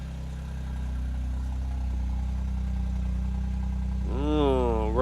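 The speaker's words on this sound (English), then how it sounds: "now let's listen to the idle from outside the car" A 2025 Toyota GR Corolla's turbocharged three-cylinder engine idles with a steady low rumble heard from outside the car, then a brief rising rev swells near the end.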